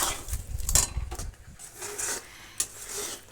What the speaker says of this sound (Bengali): এটা হালকা আঁচে এইভাবে নেড়ে নেড়ে এটাকে গাঢ় করে নিতে হবে